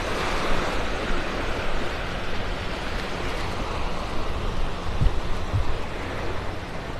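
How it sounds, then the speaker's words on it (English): Steady breezy wind from the east on an exposed Naples, Florida beach, mixing with the broad continuous wash of surf, loud and unbroken without any talk. "Breezy here, that wind coming out of the east. Nothing blocking it here."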